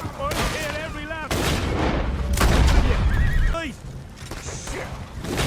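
Horses whinny repeatedly with shrill, wavering neighs amid loud booms and gunfire in the video game Red Dead Redemption 2, while a voice speaks over the chaos.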